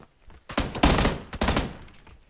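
Shotgun blasts in the video game PUBG: several loud, close booming shots in two clusters, with short gaps and faint background sound between them.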